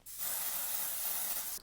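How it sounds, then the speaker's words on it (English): A single sustained spritz from a cosmetic spray bottle, a close, bright hiss lasting just over a second and then cutting off. "I don't know how I feel about the spraying application."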